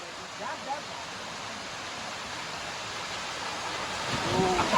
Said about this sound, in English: Finally, Amrutha Dhara waterfall is done.